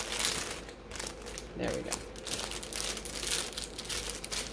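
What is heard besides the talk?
socks being put into a plastic bag and folded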